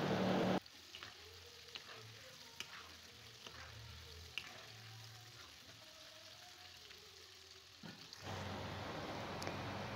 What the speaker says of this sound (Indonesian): Ini kita akan goreng sampai warnanya kuning kecoklatan.